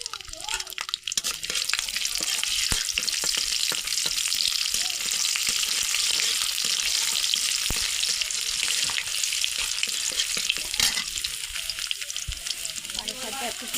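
Garlic sizzling in hot mustard oil, a loud steady frying hiss with occasional stirring scrapes, continuous throughout with brief speech over it.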